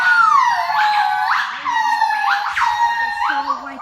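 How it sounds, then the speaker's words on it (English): Southern white-cheeked gibbons in Vietnam's Cuc Phuong forest give loud, close whooping calls, a series of rising and swooping tonal hoots repeated about four times with overlapping voices. "The sow white gibbon."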